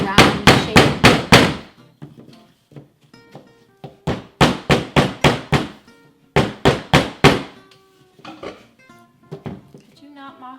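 Hammer blows on tin foil laid on a table land in quick bursts of four to six sharp strikes, separated by pauses with brief speech in between.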